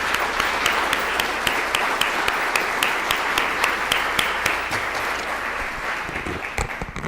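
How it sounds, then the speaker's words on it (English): Sustained applause from an audience at a chamber of commerce political forum for election candidates, steady dense clapping throughout with a few sharper individual claps standing out near the end. "Let's give the candidates a round of applause for being here tonight"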